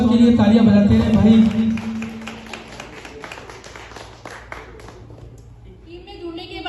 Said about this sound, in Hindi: स्वागत के लिए तालियां बजाते हैं भाई।